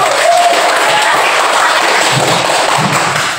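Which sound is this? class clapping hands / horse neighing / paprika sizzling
class clapping hands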